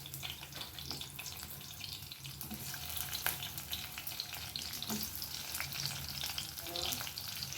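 Onion, ginger and garlic fry in hot oil, giving a steady, dense sizzle with soft stirring scrapes throughout and no talking.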